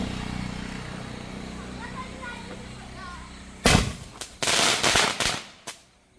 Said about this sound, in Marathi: असे आमचे मस्तपैकी फटाके वगैरे लावून झाले